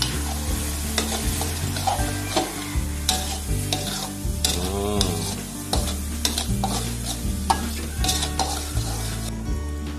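Fish sauce sizzles in a frying pan while being stirred for Thai braised eggs with pork belly, a loud continuous fry crackle with rhythmic scraping of a utensil against the pan, close and without talk.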